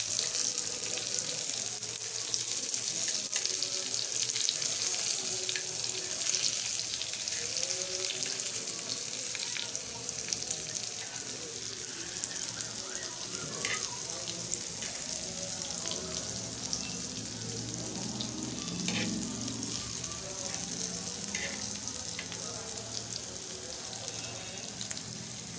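Stuffed green chilies frying in oil in a pan, a low, steady hiss and crackle of hot oil that carries on without pause for the whole stretch.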